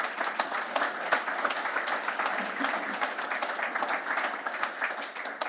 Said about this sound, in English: Can you give me a big, warm round of applause for Alex as she comes to the stage?